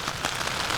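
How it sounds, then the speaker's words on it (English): Rain pattering on a tent from inside, a steady soft hiss of drops on the fabric with slight irregular ticks, close and continuous throughout. "Now I'm sitting in my tent. It's raining."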